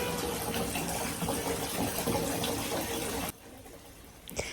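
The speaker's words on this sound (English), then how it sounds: "I really have to fill the tub super full to be able to keep him in the water" Tap water runs hard into a bathtub being filled very full, a dense steady gush that cuts off abruptly near the end, leaving quiet room tone and a small knock.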